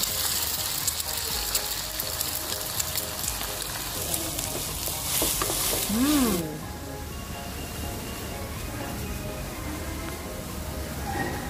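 Nasi goreng being stir-fried with sesame oil added: loud, steady sizzling and frying with scraping of a spatula in a pan, and a brief whistling tone partway through, with no talking.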